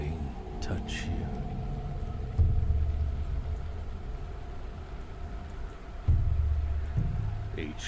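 Steady rain falls in a horror video game, a soft continuous hiss with low rumbling swells, while a voice speaks over it.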